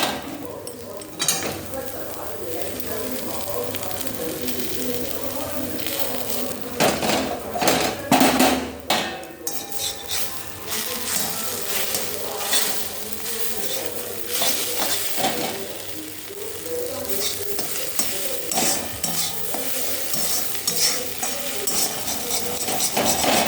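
Egg and potato bhujia fries in white oil while a utensil stirs and scrapes the pan, steady sizzling under irregular clattering strokes, close and fairly loud.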